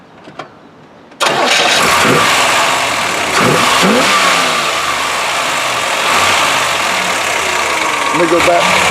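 A 1965 Corvette Stingray engine cranks and catches after a brief quiet moment, then runs loud and steady close by with a few light revs, while people talk faintly underneath.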